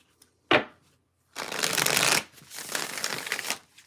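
Playing cards snap once, then a deck of cards is riffled and shuffled in two long, rustling bursts, close and clear, with no talking.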